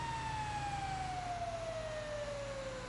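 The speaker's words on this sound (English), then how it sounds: "And when having the siren on, most likely," A steady, slowly falling siren wail from an emergency vehicle in GTA 5 rings loud and close for a few seconds, with a low engine rumble beneath and no talking.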